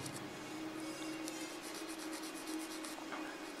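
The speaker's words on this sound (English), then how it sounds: "apologize for sanding while I'm talking" Faint, steady scratchy rubbing of hand sanding a model starship repeats in a quick rhythm against quiet background hiss.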